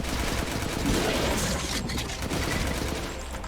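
Gunfire in the video game Resident Evil Village comes as a dense, continuous run of loud shots and impacts, closely packed, with no talking over it.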